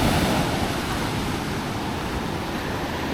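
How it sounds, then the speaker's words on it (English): Waves crash continuously onto a sandy beach in the Philippines, a loud, steady roar of surf with wind noise and no distinct breaks, heard up close with no voices. "I'm loving the crashing waves."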